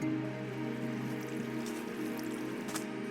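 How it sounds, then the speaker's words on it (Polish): Water drips in the Minecraft video game as a soft, steady patter, like rain on a surface, running continuously under faint sustained game tones. "Tutaj kapie tak"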